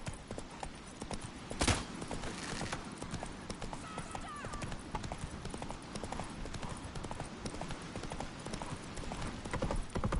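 Roach the horse gallops in The Witcher 3, with rapid rhythmic hoofbeats at a steady pace throughout and a brief whinny early on.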